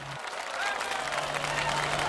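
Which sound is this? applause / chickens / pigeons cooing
applause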